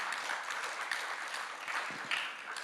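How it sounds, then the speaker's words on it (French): Moderate applause from a round-table audience, a steady patter of clapping with some louder claps standing out, heard at a slight distance. "Je crois que ça mérite des applaudissements."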